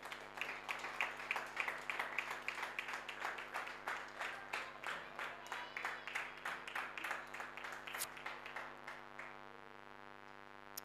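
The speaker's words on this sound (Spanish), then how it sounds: "Dele su aplauso al Señor." A church congregation claps in steady, rhythmic unison for about nine seconds, a full roomful of hands beating together before the clapping trails off into a quiet hum.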